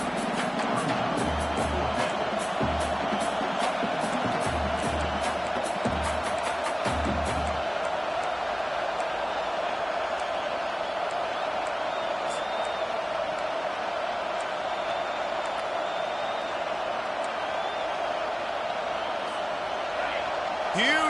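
A distant stadium crowd in a Madden football game swells in a steady, loud roar that hangs under commentary, with a few thumps early on.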